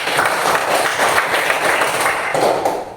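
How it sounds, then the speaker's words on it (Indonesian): Classroom of students applauding a classmate, a short burst of close, steady clapping from a small group that fades away after about three seconds. "Silakan tepuk tangan untuk Paskin."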